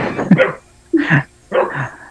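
A dog gives three short, separate barks nearby, with roughly half-second gaps between them and quiet in between.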